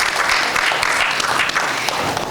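Sustained applause from an audience at an education policy panel event, dense steady clapping filling the whole moment without a break.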